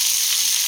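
Tomatoes sauté in a pan for egg curry, a brief bright sizzle heard up close and alone.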